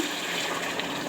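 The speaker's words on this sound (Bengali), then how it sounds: "গরম জল।" Hot water is poured into a pot of mutton curry with potatoes, a steady close rushing gush that lasts about a second at even loudness, with no voices.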